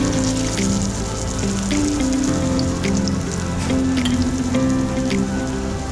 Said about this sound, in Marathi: फ्राईंग पॅनमध्ये तेल घेऊन हलक्या हाताने हे वडे त्यात ठेवूया.